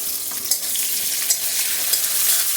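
Onion frying in a pan with a steady, close sizzle and crackle for a lentil and vegetable dish, with a few soft stirring knocks and no talk.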